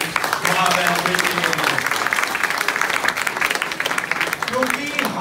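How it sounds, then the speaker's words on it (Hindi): Crowd applause at a Hindi motivational talk on the benefits of staying happy, a steady dense patter throughout with voices and cheering mixed in over the clapping. "एक बार तालियां बजाओ"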